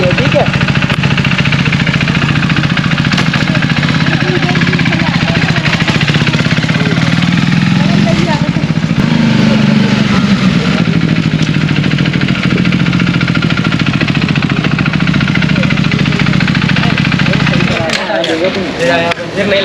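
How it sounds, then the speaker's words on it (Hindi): A KTM RC 390 BS4 motorcycle engine runs loud and close while being ridden, a rough steady drone that rises and falls, cutting out near the end, with a voice speaking over it. "जब आप बाइक चलाओगे तो RC 390 बाइक कुछ इस तरीके से लगती है"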